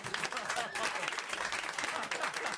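Studio audience applause for Laurent, a performer in a staged prank on a French comedy and jokes show, a dense steady clapping that fills the whole moment with crowd noise and voices mixed in.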